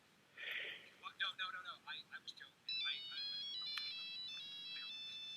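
An old-style mobile phone ringtone plays as a bright, beeping electronic melody that repeats steadily and fairly clearly, following a burst of chirpy electronic tones.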